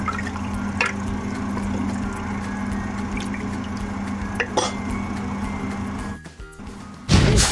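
Cloudy rice-washing water pours into a pot of sinigang spareribs soup with vegetables, a steady close splashing and trickling with brief drips, ending in a louder splash.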